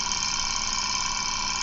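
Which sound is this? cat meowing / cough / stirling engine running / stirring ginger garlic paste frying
stirling engine running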